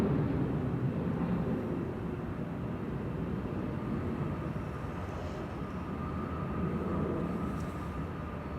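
A Saudia airliner in new livery idles on the ground at Amsterdam Schiphol Airport, its engines a steady, distant low rumble and drone that holds evenly throughout.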